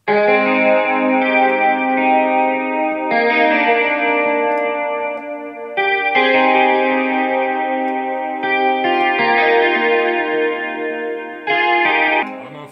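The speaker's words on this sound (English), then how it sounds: "Some reverb to that too." Beat being produced in Logic Pro X with reverb added, playing as sustained, effect-washed synth chords that repeat in loud blocks, heard without any talking.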